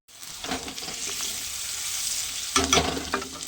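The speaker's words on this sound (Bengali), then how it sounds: "ফোড়ন পেঁয়াজ লঙ্কা দিয়ে ভেজে নিয়েছি" Spices, onion and chili frying in a pan for a rui fish curry, a close steady sizzle with stirring scrapes, then a louder burst of crackle near the end, no talk.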